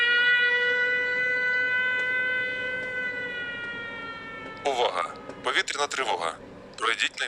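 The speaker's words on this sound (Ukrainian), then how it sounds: "Увага! Повітряна тривога." Civil defense air raid siren alert: a steady wailing tone holding for about four and a half seconds, slowly sliding lower, then cut off by a recorded voice announcement in bursts.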